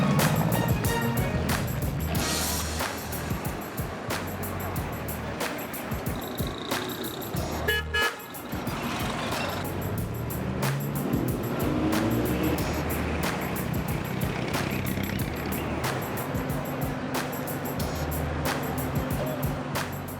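Vintage American taxi cars in Havana traffic, with short car horn toots sounding over a steady bed of engine rumble and street noise, several honks scattered through the busy scene.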